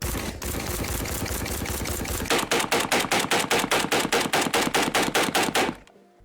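An AK rifle firing 7.62x39 rounds from a kayak: a rapid, loud burst of shots at first, then a long string of evenly spaced sharp reports that ends abruptly, close and unaccompanied by speech.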